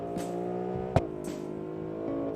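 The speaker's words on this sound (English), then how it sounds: "Oh, I like the sound. I like the exhaust as well." A game car's engine hums steadily with harmonic exhaust drone, a brief sharp crack of exhaust pop midway, then revving continues at a moderate, even level.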